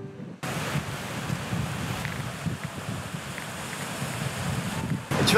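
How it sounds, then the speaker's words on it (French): Soft, slack waves wash onto a Basque beach in a steady broadband rush, with wind buffeting the microphone throughout and no voices. "Tu vois, les vagues, elles sont molles."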